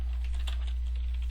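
Rapid typing on a computer keyboard, light continuous clicks close up over a steady low electrical hum.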